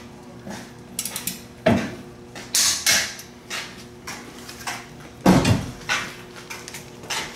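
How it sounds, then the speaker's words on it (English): Torque wrench tightening bolts on a Jeep Dana 30 axle to 75 foot-pounds, heard as close, uneven metallic ratcheting and clanking in short bursts with brief pauses between them and no talking. "we're going to torque it down. And we're putting 75 foot-pounds of torque on these."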